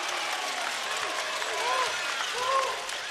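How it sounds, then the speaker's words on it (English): Jets basketball fans at a Manawatū Jets versus Auckland Tuatara game raise a steady arena crowd roar with scattered applause, while a commentator talks over it and sneaker squeaks ring faintly from the court. "Jets fans find a bit of voice"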